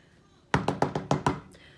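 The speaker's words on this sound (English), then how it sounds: "Camille was awakened by, by a loud knocking on the door" Someone knocks loudly on a wooden door, six quick, sharp, evenly spaced raps close by, with no other sound around them.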